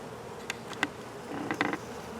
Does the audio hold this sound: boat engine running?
no